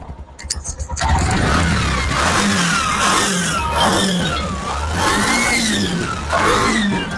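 A used auto rickshaw engine runs close by in Vavuniya, Sri Lanka with a rough, throbbing note, revving up and down repeatedly after a brief clattering start.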